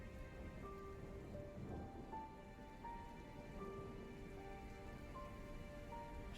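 Ambient rain in the Crimson Diamond video game, a soft, steady patter on surfaces heard quietly under faint sustained musical tones, with no voices.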